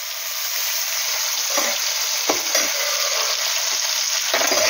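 Tomatoes with salt and turmeric sizzle in a pan of oil that was used to fry fish, a constant loud hiss broken by a few scraping strokes of stirring, with no one speaking.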